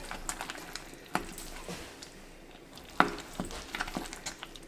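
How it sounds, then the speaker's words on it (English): Spinach stirred in a hot pan, a steady low sizzle with scattered scraping clicks and two sharper knocks of the utensil against the pan. "Get that in the pan. Mix it up."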